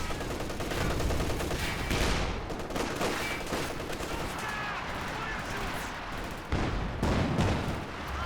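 SU-76 self-propelled gun barrage in Company of Heroes 2, a dense, continuous run of overlapping shots and impacts at steady loudness, with battle noise throughout.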